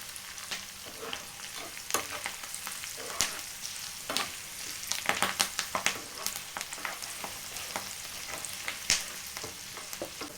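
Curry leaves, dried red chilli and asafoetida crackle in hot oil for a gongura pickle tempering, a close, continuous sizzle broken by frequent sharp clinks and scrapes of stirring that grow busier midway.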